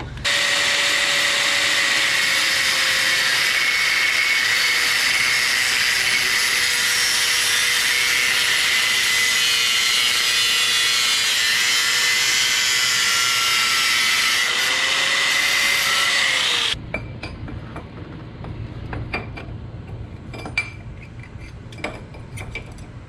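A power tool cuts metal on a Honda TRX300 4WD quad chassis with a loud, steady high-pitched whine that wavers slightly, then stops abruptly near the end, leaving quieter clanks and handling noise.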